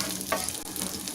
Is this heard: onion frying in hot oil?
yes